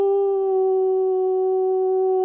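A single sustained wolf howl sound effect rings out loud and clear, holding one steady pitch with strong harmonics throughout.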